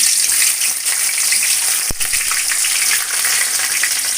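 Two chopped large onions are added to a pan and fry with a steady, close sizzle and crackle, with a brief clatter midway as they go in.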